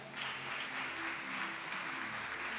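A congregation at a church worship service applauds in a steady, dense wash of clapping that holds at an even level throughout, with no voices standing out.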